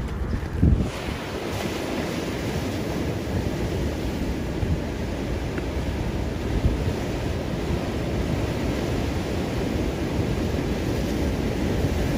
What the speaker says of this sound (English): really good waves still coming in